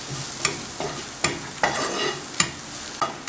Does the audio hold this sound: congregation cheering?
no